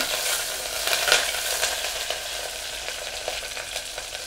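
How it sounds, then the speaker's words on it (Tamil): Garlic, green chili and curry leaves fry in hot oil for a fish curry, giving a steady bright sizzle with an occasional stir or pop, close and loud, with no talk. "பூண்டு, பச்சை மிளகாய் நல்லா வதக்கிக்கோங்க."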